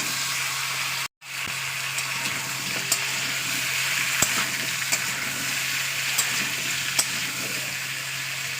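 Taro and potato pieces frying in hot oil, a steady broadband sizzle held close throughout with a few sharp spoon clicks and scrapes against the pan, briefly cut out near the start.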